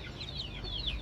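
Chicks give a few faint, high, quick peeps as they are lifted one by one away from the mother hen, over a low background rumble.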